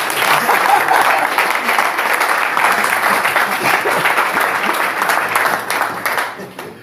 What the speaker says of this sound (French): Applaudissons pour notre frère.